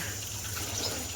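Water flows steadily into a farm field, a continuous rushing gush with a low rumble underneath, close and even in level, with no talk.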